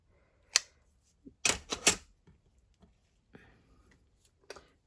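Paper card being cut for a handmade 55th wedding anniversary card: a few sharp, close snips and rustles in short bursts with quiet gaps between them.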